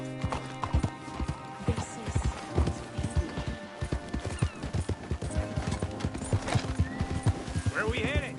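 Rapid clip-clopping horse hooves in the video game Red Dead Redemption 2, with an occasional horse whinny, layered over a steady background score, with a voice speaking briefly at one point.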